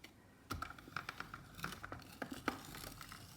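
A die-cutting machine rolls paper and flower plates through, giving a quiet run of irregular crackling clicks and crinkles close by.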